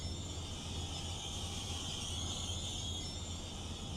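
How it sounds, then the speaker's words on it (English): Train brakes squeal in Train Simulator on the North Jersey Coast Line, a steady high-pitched metallic whine held over a low rumbling rail drone, loud and continuous throughout. "Oh, squealy brakes."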